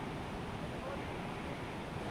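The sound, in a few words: floodwater rushing heavily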